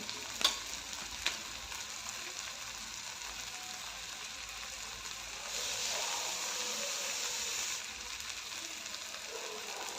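Garam masala and chilli powder sizzle steadily in hot oil in a pan for a potato curry, a soft continuous frying hiss with a couple of clinks early on and a brief louder surge midway, no talking.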